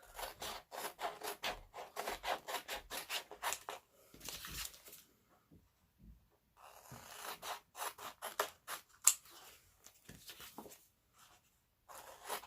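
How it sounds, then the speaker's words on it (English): Scissors cutting paper along printed lines, close and quiet, with bursts of rapid snipping and rustling separated by short pauses and near-silent gaps. "So we're going to cut this on the cut lines."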